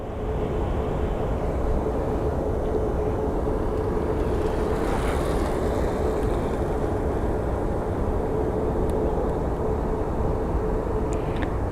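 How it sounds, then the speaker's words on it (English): An American Airlines Boeing 737 at Phoenix Sky Harbor International Airport, a steady broad jet roar with a faint sustained engine tone, continuous and unchanging throughout, heard from a distance with no voices. "We are going to have the American Airlines 737 coming into frame."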